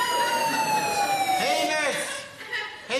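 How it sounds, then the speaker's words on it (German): An electronic temperature alarm siren in a farm potato store sounds a steady, piercing tone with harmonics, wavering slightly, while people talk over it. "die meldet sich die Sirene, wenn die Temperatur fällt, damit die Kartoffeln nicht kaputt gehen"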